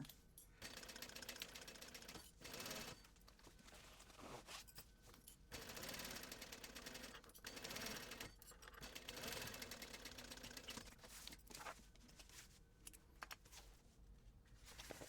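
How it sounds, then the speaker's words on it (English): Sewing machine fitted with a standard zipper foot stitching a zipper on a 1/4 inch seam allowance for a backpack; loud, close mechanical whirring in repeated bursts separated by short pauses. "now I'm going to sew it using a 1/4 inch seam allowance with my standard zipper foot"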